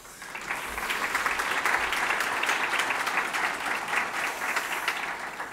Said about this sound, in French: Et je pense que vous pouvez les applaudir.